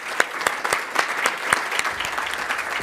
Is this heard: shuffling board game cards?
no